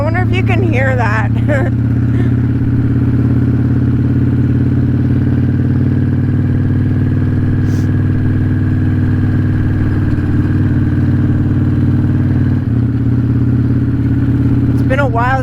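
A 1994 Harley-Davidson Dyna motorcycle with a hydraulic clutch rumbles loud and close while being ridden, giving a steady, deep engine drone throughout. A rider's voice is heard briefly at the start and end.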